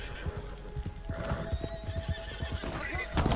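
A horse in the Red Dead Redemption 2 video game whinnies while its hooves clip-clop steadily and close by, with a sharper snort or whinny rising near the end.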